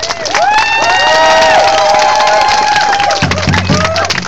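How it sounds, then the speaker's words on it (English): Crowd at a Standing Rock solidarity rally in Santa Monica cheers loudly with rising whoops, shouts and clapping, and a few low drum beats come in near the end. "Let's give a round of applause for that."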